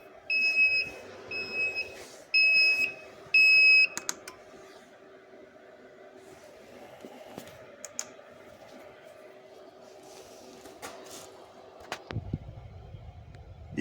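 Victron GX device from a MultiGrid 24/3000/70-50 inverter setup sounding its alarm after grid power loss: three loud, evenly spaced double-tone beep bursts in the first few seconds, then a low steady hum with faint clicks.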